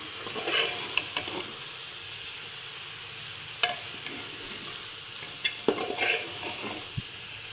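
Rice is stirred in a pot for egg biryani, giving soft scraping swirls and occasional sharp clinks of a spoon against metal over a faint sizzle, close by and without speech.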